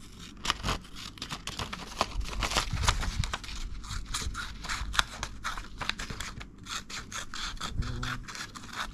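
Scissors cutting paper in a straight line for a junk journal embellishment, a rapid run of crisp snips and rustling, close and continuous with brief pauses near the end.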